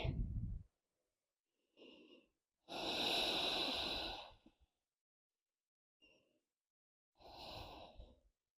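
Slow, deep breaths in and out, taken while resting in child's pose during a beginner yoga session, each breath a soft airy rush separated by quiet pauses, close and alone.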